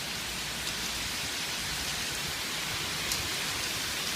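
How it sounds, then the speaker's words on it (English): Hailstones pour down in a dense, steady hiss during a powerful windstorm, with icy pellets drumming without pause and a couple of sharper impacts standing out. "Oh, it's hailstones."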